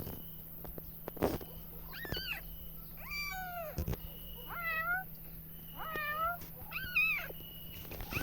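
Several cats meow one after another indoors, about six distinct rising-and-falling calls spread evenly, close and clear over a faint room hum.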